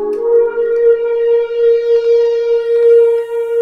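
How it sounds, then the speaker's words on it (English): Two synthesizer pad sounds from the Sonic Refill library layered together in Reason, forming a steady, sustained harmonic drone that swells gently and holds at a loud level throughout, with no voices. "So you see both of the pad sounds are playing at the same time now."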